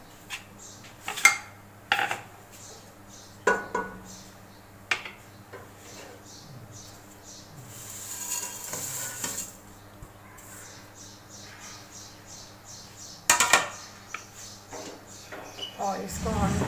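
Vermicelli tipped into about a cup of oil in a pan and stirred, heard as scattered close clinks and scrapes of utensils against cookware with a brief rustling pour, while someone talks throughout.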